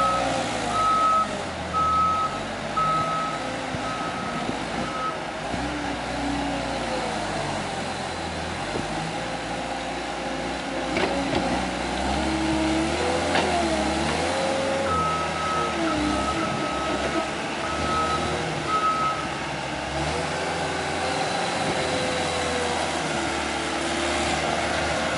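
A Cat 287B skid steer loading a dump truck from behind, with a steady rumbling diesel engine and repeated reversing beeps in regular spaced runs throughout, fairly close.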